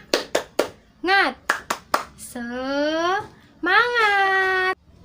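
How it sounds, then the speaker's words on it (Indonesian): Children do a rhythmic 'tepuk semangat' clapping cheer at a school assembly, several sharp claps in a pattern alternating with loud shouted chanting voices. "biar lebih semangat lagi, kita tepuk semangat dulu ya"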